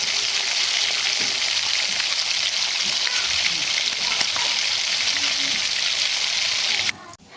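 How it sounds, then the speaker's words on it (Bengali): Cauliflower pakoras deep-frying in oil over a medium flame give a loud, steady, dense sizzle and crackle that runs unbroken, then cuts off abruptly near the end. "গ্যাসের ফ্লেমটাকে মিডিয়াম অবস্থায় রেখে এইভাবে পকোড়াগুলো ভেজে নেবে"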